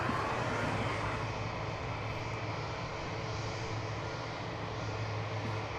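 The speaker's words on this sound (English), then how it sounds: "There's Delta Flight 1065. It is a Airbus A220." Delta Airbus A220 airliner passing overhead, a loud, steady broadband jet roar with a low engine drone that holds throughout.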